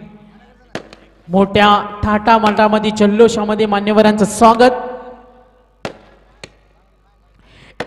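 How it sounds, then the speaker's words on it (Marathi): A few sharp firecracker bangs crack out at a village cricket tournament's welcome ceremony in Devad, Panvel, after a man makes an excited announcement over a loudspeaker. "फटाक्यांची आतषबाजी"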